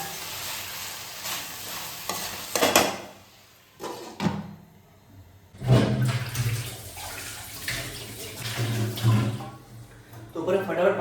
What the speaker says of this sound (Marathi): तोपर्यंत फटाफट भांडे धुवून गेले आहे